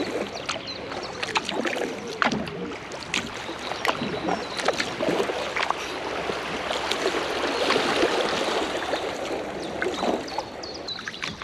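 A kayak moves along a river near Leipzig, with paddle strokes splashing and dripping in irregular bursts over a steady wash of flowing water, close and fairly loud, no talking.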